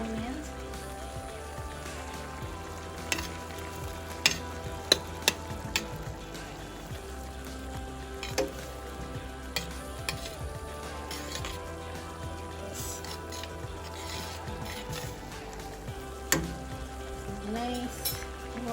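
Spinach being seasoned in a pan as part of a chicken saltimbocca dish gives a faint, steady sizzle with occasional light utensil clicks and taps against the cookware, quiet and close throughout.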